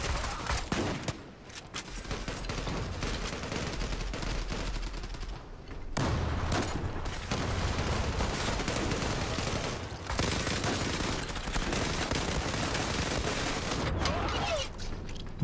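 Continuous automatic gunfire in the online shooter Zula, a relentless stream of overlapping shots with a couple of brief breaks, with voices talking underneath.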